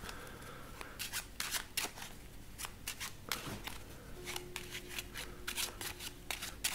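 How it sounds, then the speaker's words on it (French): A deck of playing cards is shuffled close by, quick papery bursts of riffling and flicking repeating in uneven clusters over a soft background, with no talk. "vous donnez le jeu de cartes à votre spectatrice et vous lui demandez de mélanger le jeu."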